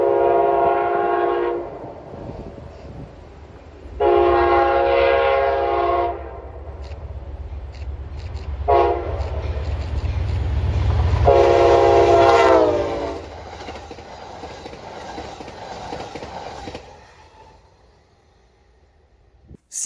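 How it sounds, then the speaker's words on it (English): Amtrak Train 64, the eastbound Maple Leaf passenger service, passes near Lancaster, New York, sounding repeated loud horn blasts over a rumbling engine and clattering wheels before fading into the distance. "Amtrak Train 64, the eastbound Maple Leaf service, would soon follow closely behind CSX M364"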